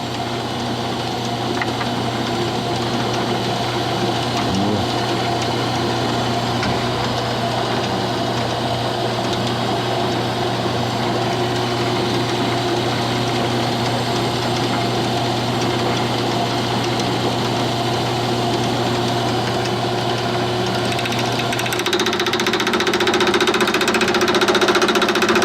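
A small mill in a home machine shop cuts with a homemade single-tip involute cutter, giving a steady droning motor hum with a faint rhythmic chatter that holds constant throughout, close and without speech.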